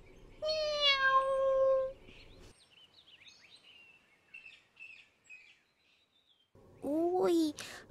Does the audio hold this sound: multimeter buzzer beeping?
no